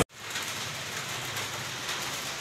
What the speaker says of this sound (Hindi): इतनी जोर की बारिश पड़ रही है